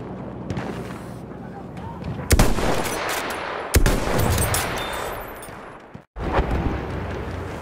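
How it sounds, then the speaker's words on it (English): Battlefield 1 World War One machine gun fire rattles in dense, sustained bursts amid explosions and battle noise, loud and close, cutting out abruptly near the end before resuming. "Machine gun!"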